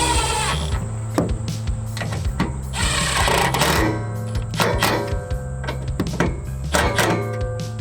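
A power driver tightens tie-down bolts on a Ford Maverick truck bed, with repeated short bursts of motor whine in a steady stop-start rhythm, close and fairly loud, with no talk.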